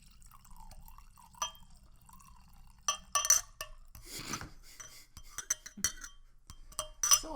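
Rioja red wine poured into a glass gives soft trickling and dripping with sharp glass clinks and taps, quiet and close, in a few separate bursts.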